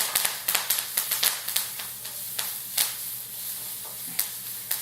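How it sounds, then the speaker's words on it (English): Curry leaves crackle and spit in hot coconut oil, with a string of sharp pops over a steady sizzle, loud and close. "I'm going to be putting in some curry leaves and a teeny weeny bit more of the coconut oil"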